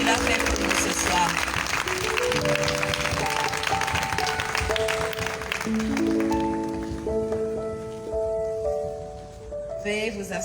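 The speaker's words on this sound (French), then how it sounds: "Est-ce qu'on peut encore acclamer très fort le Saint-Esprit?" A church congregation applauds and cheers for the Holy Spirit: a dense wash of clapping fills the first half and fades out gradually, while sustained musical tones play underneath and carry on after the applause thins.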